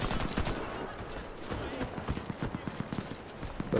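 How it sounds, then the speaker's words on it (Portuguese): A .50 caliber machine gun firing in the video game Warface: rapid, dense bursts of gunfire, loud and continuous through the clip, mixed with game noise. "Ponto 50 me atirando."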